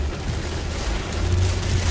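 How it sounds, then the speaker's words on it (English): Heavy Florida downpour pouring onto a car while driving, a sudden storm; steady broadband rain hiss with a low rumbling undertone, fairly loud and continuous, swelling slightly toward the end, with no talking. "it's pouring down like there was no sun earlier"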